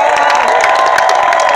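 Crowd cheering and applauding the champions at a fair joust, a loud continuous roar of voices and whoops with clapping mixed in, close and sustained.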